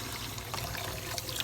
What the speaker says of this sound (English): I've turned on the water, I've made it, and you need to get it warm, not hot, just warm.